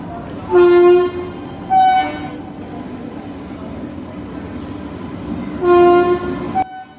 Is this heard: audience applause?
no